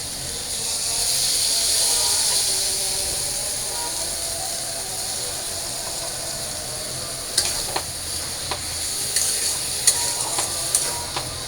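Ground spices go into a hot cooking pan and sizzle with a steady hiss that swells early then settles, followed by a few sharp clicks and stirring taps later on, with no talk.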